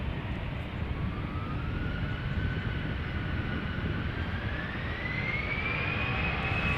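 An airliner landing on runway 27 at Amsterdam Schiphol roars steadily and loudly, a broad jet rumble with a slowly rising whine as it passes, heard without talk.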